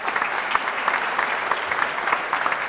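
Audience applause at a small business recognition awards ceremony, a steady, moderately loud patter of many hands clapping throughout, with no voices over it.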